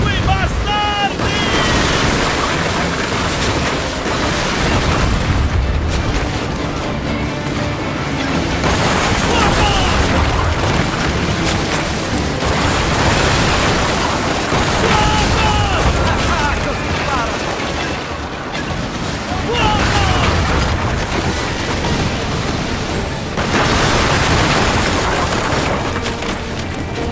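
Loud booming blasts of ship cannon fire in the video game Assassin's Creed Black Flag recur amid a dense roar of crashing water and wind, with voices shouting over the din.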